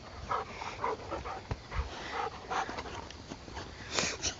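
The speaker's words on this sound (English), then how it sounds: "This is my chicken dog." A small homestead dog gives a run of soft whimpers and short yips near the listener, uneven and restless, with chickens kept close by and no talking over it.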